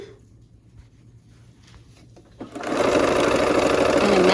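After a quiet stretch with faint handling, a sewing machine starts up and runs steadily and loudly, stitching a 1/4-inch quilt seam on a Scandinavian Summer quilt.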